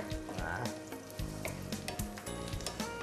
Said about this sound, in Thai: เอาพริกแห้งลงไปคั่ว